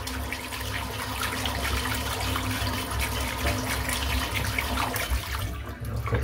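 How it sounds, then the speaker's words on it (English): Warm water runs steadily from a tap into a sink while a shaving knot is rinsed clean, a continuous close splashing flow with no talk over it. "Just another little splash of warm water."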